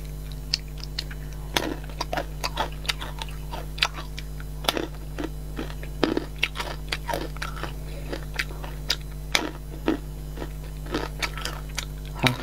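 Peanuts coated in purple sweet potato shell being bitten and chewed up close: sharp, irregular crunches repeat steadily over a low background hum, with no speech.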